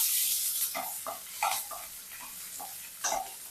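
Chopped garlic and ginger sauté in a hot pan with a steady sizzle. Intermittent scraping stir strokes sound close and moderately loud over the frying.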